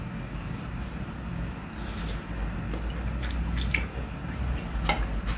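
Close, moist chewing and biting while tasting Thai food: spicy Thai noodle salad with fermented fish and nearly crispy pork belly. Steady soft squelching mouth sounds continue throughout, with a few sharper clicks, and nobody speaks.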